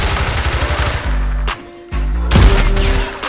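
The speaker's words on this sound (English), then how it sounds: "I'm about to have this damn house quit all that damn shooting" Rapid automatic gunfire in the video game GTA 4, loud close bursts of machine gun fire with brief pauses between volleys.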